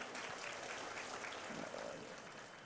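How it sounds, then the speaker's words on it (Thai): Audience applause at an Atomy seminar in Udon, a faint, steady wash of clapping from a crowd heard at a distance, tapering slightly toward the end. "ขอเสียงปรบมือให้กับคุณเชชองฮวาด้วยค่ะ"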